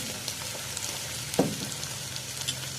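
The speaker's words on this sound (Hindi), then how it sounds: "अब हम इसमें चिकन डाल देंगे। टमाटर भी डाल देंगे साथ ही।" Chicken and tomatoes hit a hot karahi and sizzle steadily, with a brief clatter and a louder hiss midway as they settle into the pan, and no talking.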